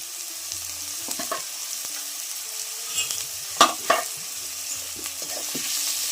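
Chili, garlic, onion and cumin frying in hot oil on a wood-fired stove, with scattered soft sizzles and a few stirring clatters, two louder scrapes midway, no talking.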